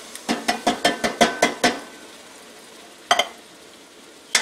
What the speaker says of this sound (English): Stir that around, mix it up